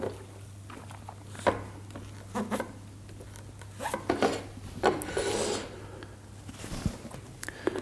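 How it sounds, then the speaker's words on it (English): A cloth wipes across a panel to clean off finger grease, making soft, intermittent rubbing and rasping strokes close by in a quiet room, with no talking. "I'm also going to clean the panel again just to make sure there is no finger grease on it"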